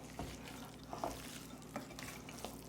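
A spoon works keto oatmeal cookie dough around a bowl, giving soft, thick stirring and scraping with a few light knocks against the side, quiet and close.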